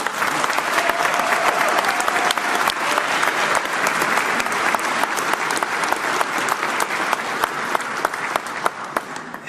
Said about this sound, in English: Can we have a big Brampton applause for Premier Ford?